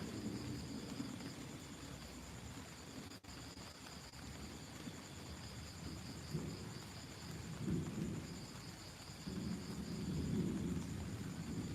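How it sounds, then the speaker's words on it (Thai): Thunder rumbles low and continuously through a rainy outdoor scene, swelling into louder rolls near the middle and end over a steady wash of rain, with no talking. "ฟ้าก็ร้อง"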